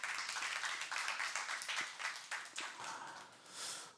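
A church congregation applauds together during a youth service sermon, a lively spread of hand claps that rises and swells unevenly, moderately distant and alone.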